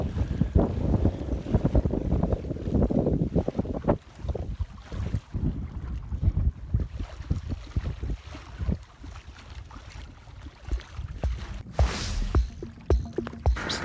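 Gusting wind buffets the microphone while a Hobie Pro Angler 17T fishing kayak is pedaled against it on open water, with rushing noise, splashes and knocks nearby.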